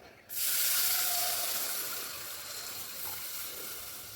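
Milk poured into a hot pan while making a winter immunity-booster drink, giving a sudden loud hiss and sizzle that starts abruptly and slowly fades over several seconds, with no talking.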